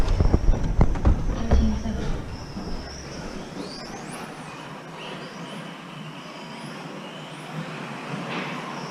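A stock Tamiya TT-02 RC car fitted with stiffer springs runs laps on a track. Its electric motor whines in rising and falling sweeps as it passes near and then away, after a loud low rumble at the start.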